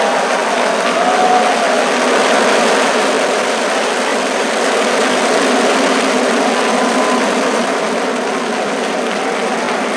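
A twice-flown SpaceX Falcon 9 rocket carrying 60 Starlink satellites roars after liftoff, a loud, dense, steady broadband rumble that holds without a break and with no voices.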